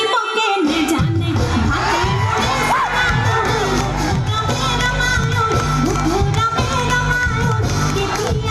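A wedding crowd at an outdoor gathering in Abhayapuri sings and shouts, with loud overlapping cheers, whoops and excited voices in a dense, continuous roar.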